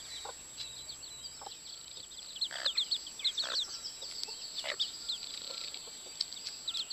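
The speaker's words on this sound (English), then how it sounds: "I have to keep the other chickens away when the brooders are out with their chicks" Brooding hens out with their chicks, a busy stream of high, thin peeping chirps close by with occasional soft clucks from the hens, steady over a quiet outdoor hiss.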